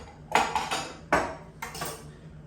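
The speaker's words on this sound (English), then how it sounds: "just going to mix my chocolate here a little bit" Chocolate being mixed in a bowl while it melts for homemade bounty bars, heard as a few distinct clinks and scrapes of a utensil against the bowl, close and moderately loud, with no talking.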